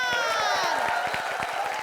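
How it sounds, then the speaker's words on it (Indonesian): A studio audience at an Indonesian TV game show claps in a quick, fairly regular rhythm beneath a bright musical jingle, moderately loud and steady. "Kita kasih tepuk tangan."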